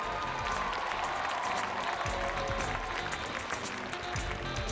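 Steady applause from an audience at a daytime gathering welcoming a council president to the stage, continuous mid-level clapping heard throughout with a faint voice underneath.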